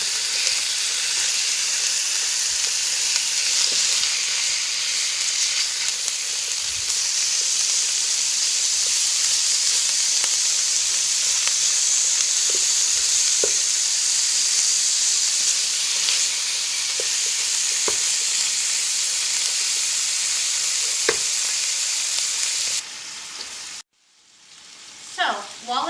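Ground meat and chopped onion sizzle in a hot pan with a steady, loud hiss and a few faint utensil clicks, before a sharp drop near the end.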